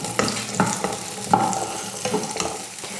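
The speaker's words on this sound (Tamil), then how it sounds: "இதையும் நல்லா வதக்கிடலாம்." Shallots and garlic sauté in hot oil for a South Indian kuzhambu, with a steady sizzle and repeated scraping stirs of a spoon against the pan, close and fairly loud, with no talking.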